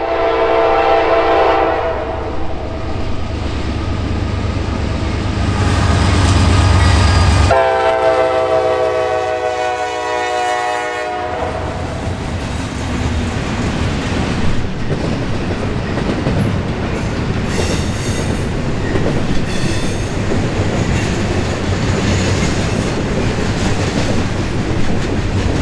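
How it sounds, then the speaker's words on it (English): A short Norfolk Southern intermodal freight train led by the Reading Heritage Unit rumbles past close by, a horn blaring early on, followed by steady rolling wheel noise and clatter of cars. "it's the Reading Heritage Unit on a very short intermodal train"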